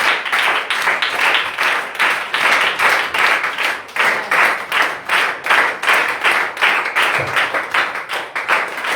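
Church congregation clapping together in rhythm, a loud, steady pulse of many hands beating in time for the whole stretch with almost no talk.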